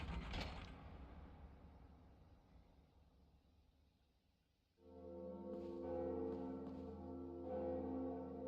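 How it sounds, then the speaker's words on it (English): In Dark Souls Remastered, the second Bell of Awakening is rung: a creaking mechanism fades, then a loud, resonant bell tone swells and sustains with repeated strikes ringing out. "So let's ring the second bell of awakening."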